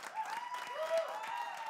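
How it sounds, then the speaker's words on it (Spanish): Audience applause for the panel on a comedy show, faint and fairly distant with a sustained tonal hum running under the brief burst of clapping. "Un aplauso para Chuchito Ibarra"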